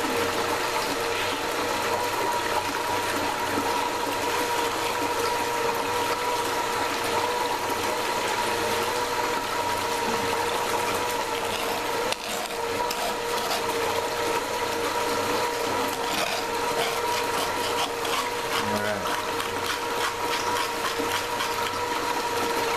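Water pours continuously through a sluice processing Dirt Hogg paydirt, a steady rushing flow layered with a constant humming pump or motor drone, unchanging for over twenty seconds.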